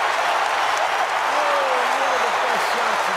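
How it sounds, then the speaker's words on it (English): A golf gallery breaks into sustained, loud applause and cheering after a shot, steady clapping from a large crowd throughout, with voices mixed into the roar. "The crowd goes wild."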